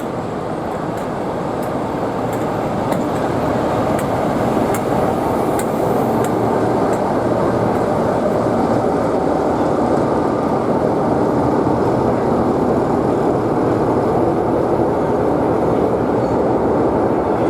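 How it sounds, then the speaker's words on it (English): Class 47 diesel locomotive 47596 in Network South East livery running at a heritage railway event, a steady loud engine drone with rail rumble holding constant throughout, no talk. "The other resident locomotive in operation at the event was the resident Class 47 47596 Aldborough Festival in its nice Network South East livery."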